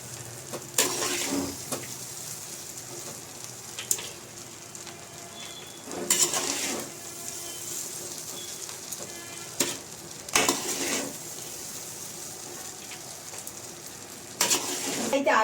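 A spoon stirs pulihora rice with peanuts in a hot pan, giving a steady sizzle under repeated scraping strokes against the metal, close and continuous with no talk.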